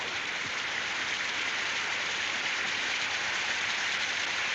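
Steady rain falling on a London street, an even, continuous hiss of drops spattering on surfaces, filling the whole stretch without pause and with no voices.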